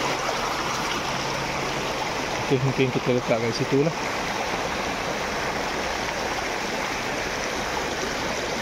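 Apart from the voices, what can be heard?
fast-flowing stream water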